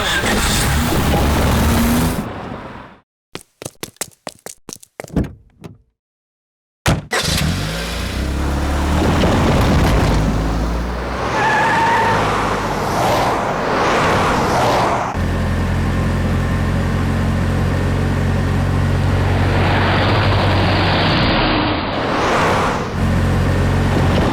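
A car drives and revs loudly in a chase scene, its engine roaring almost continuously after a brief burst of music and a short silence, with the drone shifting in pitch as it accelerates.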